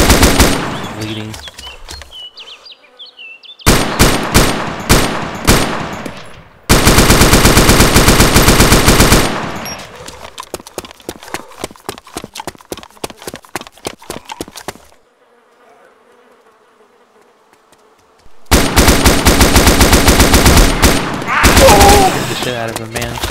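Gunfire in the survival video game DayZ. Bursts of automatic shots come in several loud, dense stretches, separated by quieter gaps with scattered single shots and a near-silent pause.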